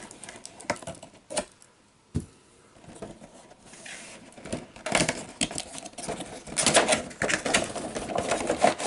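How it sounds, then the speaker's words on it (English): Toy packaging for a Majorette airport service set being cut open, with scattered snips, crinkles and scraping bursts close by that grow busier and louder toward the end. "Cut this open."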